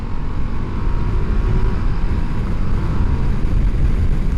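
A 2025 Ducati Multistrada V2S motorcycle accelerates hard, and its engine gives a loud, continuous, low roar that holds steady over wind rush throughout.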